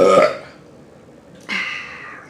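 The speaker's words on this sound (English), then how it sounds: "It's one thing about Pepsi and that fizz. It gets you that burp you need." A loud, close burp after drinking fizzy Pepsi, preceded by an earlier burst of sound and then a rough, drawn-out belch that fades over about a second, with no talk.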